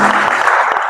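A church congregation claps for Jesus during a Night of Glory service, a dense, loud burst of many hands filling the whole moment.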